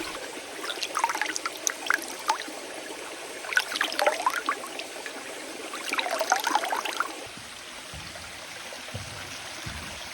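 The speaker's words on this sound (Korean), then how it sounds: "물 흐르는 소리가 들려서 주변을 둘러보니 옥녀 계곡이라는 표식이 보입니다." A steady rush of the Oknyeo valley stream fills the forest scene, with birds chirping over it; the water's hiss fades lower near the end.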